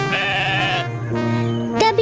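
A goat bleating in a cartoon, a few drawn-out wavering bleats, loud and close with no other sound.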